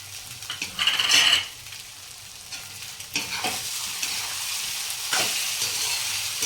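Potatoes tipped into hot oil for batata poha, a loud sizzling burst up close that settles into a steady frying hiss, with spatula stirring strokes and scrapes against the pan.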